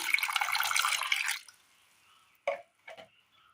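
A splash of water poured into a pan of chopped jackfruit seeds makes a short, close pouring rush, then stops, followed by two faint brief drips or clinks in near silence.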